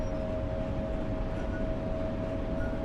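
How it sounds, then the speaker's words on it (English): Westbound Long Island Rail Road commuter train, an M7 or M9, rolling past in Train Sim World 4: a steady, dense rumble with a faint sustained tone, continuous and without talk. "Two westbound trains back to back."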